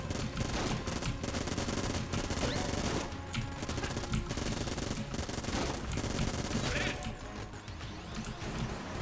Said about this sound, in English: We're going to switch to the Vulcan Cannon